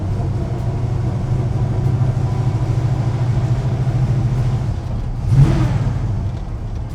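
A 1971 Chevy C10 step-side short-bed pickup accelerates in second gear, a steady low engine drone from inside the cab with a brief louder swell near the end.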